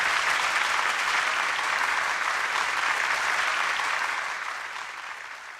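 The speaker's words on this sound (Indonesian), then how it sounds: "Tepuk tangan" A church congregation applauds a pastor during a worship service of the HKBP Batak Protestant church, a dense, steady wash of many hands clapping that stays loud throughout and tapers slightly near the end.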